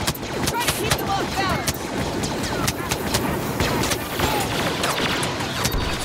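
Dense, rapid blaster fire and explosive hits in a Star Wars Battlefront match, loud and continuous, with bursts overlapping and voices talking underneath.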